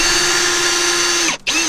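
A power drill drives Torx bit screws with a steady loud whine close by. The whine stops for a moment, then spins up again briefly.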